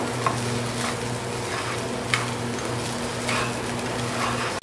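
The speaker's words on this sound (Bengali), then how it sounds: "ভালোভাবে আবারও মিশিয়ে নিচ্ছি।" Peri peri rice being stirred in a pan, a soft steady sizzle with occasional scraping strokes of the spoon and a low background hum, close and quiet with no talking.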